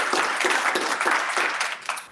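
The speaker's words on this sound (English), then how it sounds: "Y'all can clap for that." An audience claps at a community event on system change for children and families, a lively burst of many hands with a few sharper individual claps standing out, continuous and fairly loud before tapering slightly.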